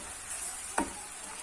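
Lentils and tomatoes sizzle softly in a pan as they are stirred, a steady low frying hiss broken by one brief scrape of the spoon near the middle.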